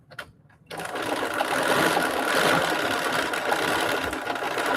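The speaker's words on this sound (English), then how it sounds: "When I was testing out this machine, seeing the demo of it, this is what I was really happy about, was that it would adjust and regulate the stitch length." A sewing machine runs steadily after a brief quiet start, doing free motion stitching on raw edge appliqué; a continuous, fairly loud mechanical whir with dense rapid stitching rhythm, close up and with no talking.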